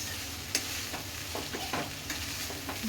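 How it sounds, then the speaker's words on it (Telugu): Eggs for fast-food-style egg fried rice are stir-fried in a hot pan, giving a steady loud sizzle with scattered scraping stir strokes of a spatula, close up and with no one talking. "ఇది ఫ్రై చేసుకున్నా ఎగ్లు మూడు గుడ్లు కదా వేసేసుకోండి ఎగ్ ఫ్రైడ్ రైస్"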